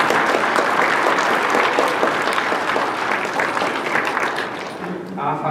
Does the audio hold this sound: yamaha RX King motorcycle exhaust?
no